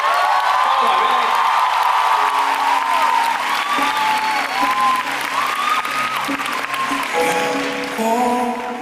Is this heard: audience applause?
yes